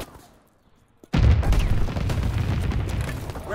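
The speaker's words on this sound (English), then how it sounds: "Enemy anti-aircraft fire." Anti-aircraft fire in the World War II shooter Call of Duty: WWII, a near-silent lull broken by a sudden heavy boom, followed by sustained loud rumbling explosions and crackling gunfire.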